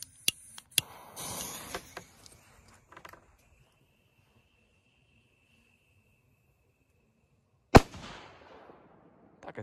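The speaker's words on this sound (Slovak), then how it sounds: "Takže petarda Mini Blitz Rooms od Funke." A Funke Mini Blitz firecracker going off outdoors, with a few small pops and crackles early, then a single sharp loud bang near the end followed by a brief echoing tail and faint insects.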